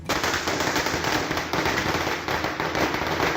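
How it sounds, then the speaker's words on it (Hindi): Firecrackers crackle in a dense, continuous burst at a celebration in Saharsa, Bihar, with loud rapid pops running unbroken from start to finish and no voices. "सहरसा में तो कुछ लोगों ने खूब आतिशबाजी की"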